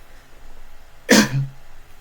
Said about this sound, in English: Excuse me with that cough.